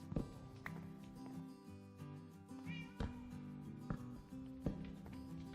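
A cat meows repeatedly, a handful of short close cries spaced about a second apart, over soft background music in a Minecraft session.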